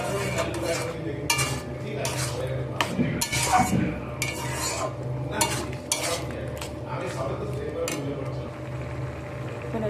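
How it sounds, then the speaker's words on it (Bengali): Banana flower with roasted moong dal and spices being stirred and sautéed in a pan, with steady scraping strokes and occasional metallic clanks over a continuous low sizzle, close up. "সব কিছুকে একসাথে মিশিয়ে ভালো করে মশলার সাথে কষিয়ে নিতে হবে"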